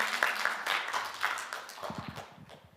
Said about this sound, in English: Hopefully you can hear everyone's clapping for you there.